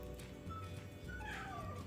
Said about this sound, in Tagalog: Yung pusa ko. Maingay.